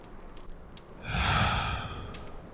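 A slow, steady exhale during a calm, close-miked relaxation session: a soft breathy rush swelling for about a second, then fading into quiet room hiss.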